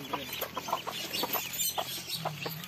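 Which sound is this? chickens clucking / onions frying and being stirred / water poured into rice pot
chickens clucking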